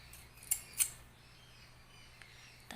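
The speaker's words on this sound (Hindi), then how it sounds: "इस फूल को हम ऐसे काट लेंगे कैंची" Scissors snip through a fabric flower for a door hanging, with two quick, sharp cuts early on and a faint click near the end against an otherwise quiet background.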